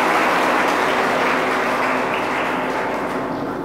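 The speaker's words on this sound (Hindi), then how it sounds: "सो एक बार फिर से जोरदार तालियों के साथ स्वागत करते हैं आज के इस इवेंट की" A large audience at an institute event gives loud, continuous applause, a dense wash of clapping that holds steady for several seconds.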